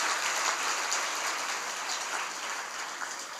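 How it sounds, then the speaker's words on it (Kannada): A seated audience gives steady, sustained applause to welcome Abhinava Shivalinga Mahaswami, a dense wash of many hands clapping at moderate volume with no voices over it. "ಜೋರಾದ ಚಪ್ಪಾಳೆಯೊಂದಿಗೆ ಸ್ವಾಗತಿಸಿ"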